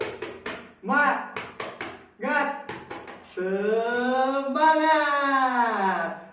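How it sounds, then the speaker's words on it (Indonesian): Rhythmic spirit clapping in a third-grade classroom: bursts of group hand claps in a patterned beat, followed by children's voices chanting loudly together. "mari kita lakukan tepuk semangat"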